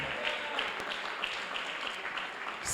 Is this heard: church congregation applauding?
yes